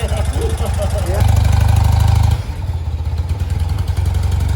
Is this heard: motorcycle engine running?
yes